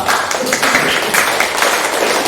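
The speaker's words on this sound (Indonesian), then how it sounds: "kita beri tepuk tangan untuk kelompok 2" Applause in a classroom for a student group after their presentation, a dense steady patter of many hands clapping at once, fairly loud and continuous with no talk.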